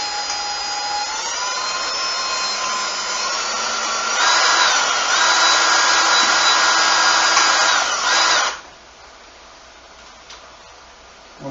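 An electric drill bores a hole into a screw with a stripped head, whining steadily and close, climbing higher as it bites into the metal, then stopping at once and leaving near silence.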